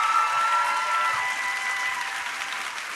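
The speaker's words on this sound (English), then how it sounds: "let's give him a round of applause for answering all our questions." A convention audience gives a steady round of applause, a dense wash of clapping that holds evenly and fades slightly toward the end.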